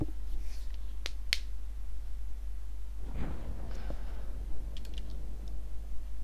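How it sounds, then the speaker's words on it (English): A computer mouse double-clicking in Kerbal Space Program: a pair of sharp, quick clicks close together, followed by a few fainter taps, over a steady low hum. "switch to those by double-clicking."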